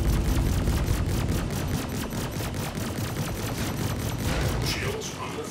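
Rapid sustained gunfire strikes ship shields during a space combat fight in Star Citizen, a dense continuous rattle of evenly spaced impacts over a low rumble, loud and steady throughout.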